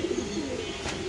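Black Danish pigeons coo softly in a pigeon loft, a brief low murmuring call heard close by and alone.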